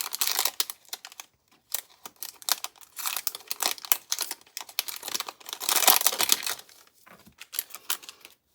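Close, irregular crinkling and tearing of plastic sticker-pack wrappers in quick bursts with short pauses between them, and no talking.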